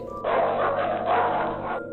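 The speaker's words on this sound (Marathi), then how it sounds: "आधी दोन शेफर डॉग भुंकत अंगावर आले" Two German Shepherds bark loudly and close up at a driveway entrance, a dense continuous burst of barking that fills most of the two seconds.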